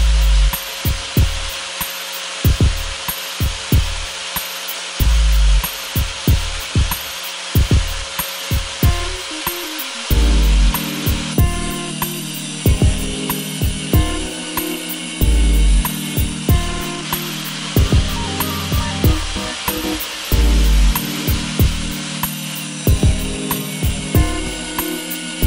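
A hand saw cuts through threaded steel rod in a workshop, with steady repeated rasping strokes in bursts, loud and close, with short pauses between runs of strokes.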